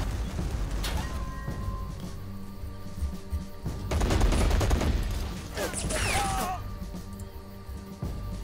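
Gunfire from the Men of War war game crackles in scattered bursts over a steady rumbling backdrop, with a denser volley in the middle and a sharp whistling crack later on.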